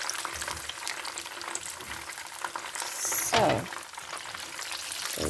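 Gravy for jollof rice fries in hot oil with a steady, close sizzle, broken once by a brief stir and a short clank of a utensil.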